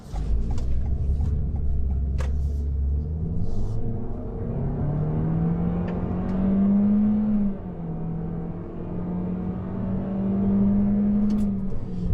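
A 2021 Toyota Corolla with a CVT accelerating, a steady engine drone whose pitch rises smoothly and holds, close and loud from inside the cabin with no talking.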